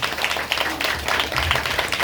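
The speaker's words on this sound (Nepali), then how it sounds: "सबले ताली बजाएर यसोलाई धन्यवाद दिन्छौँ।" A church congregation applauds together in gratitude to Jesus, a steady wash of many hands clapping at close range for about two seconds, with no voices standing out above it.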